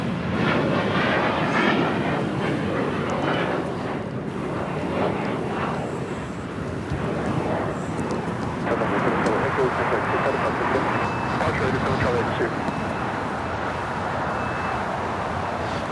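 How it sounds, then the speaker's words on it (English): A Boeing 787-8 Dreamliner jet airliner at Los Angeles International Airport gives a steady, loud engine roar that swells and holds for the whole stretch, with a faint broadband wash of distant traffic under it. "You're looking at On the Pond Airways Flight 180 heading to Mexico City in a 787-8 Dreamliner."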